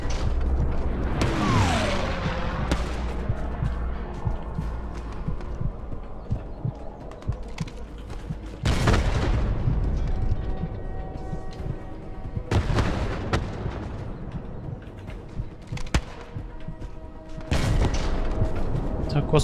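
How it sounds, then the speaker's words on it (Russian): Tank cannon fire in the World War II shooter Hell Let Loose: four heavy, booming blasts several seconds apart, each followed by a rolling rumble, with voices talking underneath. "Господи, куда ты наш танк стреляет?"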